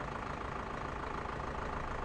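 A tractor engine idles in Farming Simulator 2015, a steady dense low rumble with a faint knocking pulse, loud and close, with no voices.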